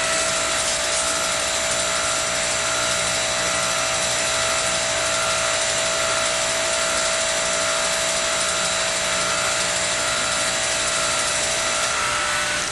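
Coats tire changer machine rotating a tire during bead lubrication, giving a loud, steady mechanical whir and motor drone that runs unbroken the whole time with no voices.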